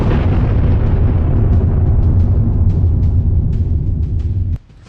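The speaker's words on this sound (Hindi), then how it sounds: "ब्लास्ट से पूरा इलाका थर्रा उठा।" A massive explosion at an illegal firecracker factory in Bhiwadi, Rajasthan, roars as a sustained, deep rumbling blast that fills the space for several seconds before cutting off abruptly.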